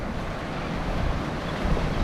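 Ocean surf washes continuously at a blowy, rough beach beside a creek inlet, with gusting wind buffeting the microphone and no voices.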